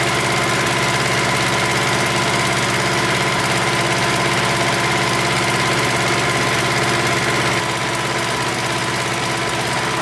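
A propane engine, likely on a lift used to move a large stove, runs steadily close by with a constant droning hum and an even idle rumble. No voices are heard.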